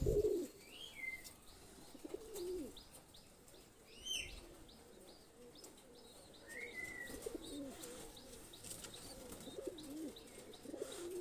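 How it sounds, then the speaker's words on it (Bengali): Pigeon coos and soft chirps from a Kasuri male high-flyer pigeon, with several brief calls scattered across a continuous background of other birds at moderate distance. "একটা কাসুরি নর কবুতর"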